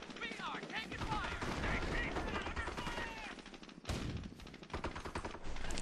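Dense machine-gun and rifle fire from the World War II strategy game Company of Heroes, sustained and rattling with overlapping bursts and game voice chatter mixed in.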